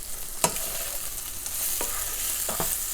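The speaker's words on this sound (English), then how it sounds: "Now that the paneer has been fried, it's time to prepare the gravy." Paneer frying and being stirred in a pan for paneer chilli: a steady oil sizzle throughout, broken by a few sharp scraping stir strokes near the start and toward the end, close and alone.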